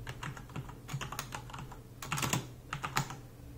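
Quiet, irregular clicking of keys on a computer keyboard, with bursts of quick taps and short pauses between them.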